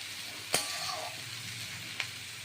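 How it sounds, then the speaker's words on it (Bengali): Fried prawn heads dropped into a pan of thick pumpkin curry, giving a steady low sizzle with two sharp clinks of a utensil against the pan. "আর মাছের মাথাটা আমি ভেজে রেখেছি এইটাও আমি এর মধ্যে দিয়ে দিলাম"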